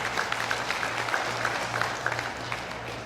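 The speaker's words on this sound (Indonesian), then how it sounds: "Tepuk tangan buat Datuk Seri Agus." Audience applause at a Riau customary council (LAM) gathering in Dumai, a steady wash of clapping, moderately faint and continuous, with a low hum underneath.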